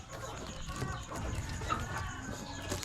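Hens on a farm in the Philippines cluck softly amid low background noise and faint voices, a busy murmur of fowl that carries on steadily throughout.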